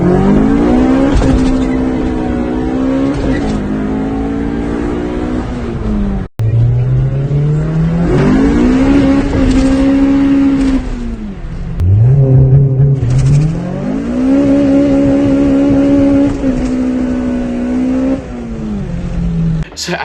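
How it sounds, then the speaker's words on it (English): A Honda Civic EG with a swapped Type R engine is revved hard through the gears, the engine note climbing repeatedly toward the limiter with brief drops at gear changes, loud and close. "they sent me videos of them absolutely thrashing this thing off its head, bouncing off limiter like crazy"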